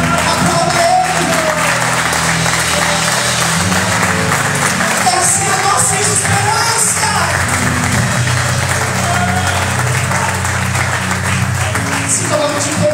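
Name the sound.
church congregation applauding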